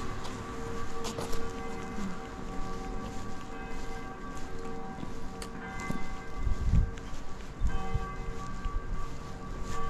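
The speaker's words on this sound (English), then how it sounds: "You think that bell is stuck?" A church bell in the Swiss Alps near Grindelwald, Lauterbrunnen and Wengen rings repeatedly, moderately distant and echoing, its strokes steady over outdoor ambience and occasional low thumps.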